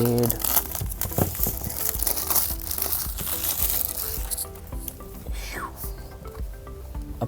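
Plastic wrapping is peeled off a red OnePlus 7 phone box, giving continuous close crinkling and tearing for several seconds with background music.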